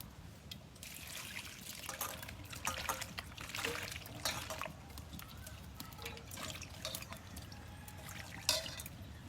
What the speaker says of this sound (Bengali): একবার পরিষ্কার জল দিয়ে ধুয়ে নেব।